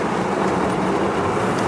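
A steady, loud broadband rumble of engine and road noise inside a moving AMC Jeep Grand Wagoneer Woody, continuous and unbroken with no clear gear shift.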